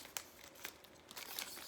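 Scissors snip and crinkle through paper doilies, giving a few quiet, scattered crisp cuts and rustles with no talking.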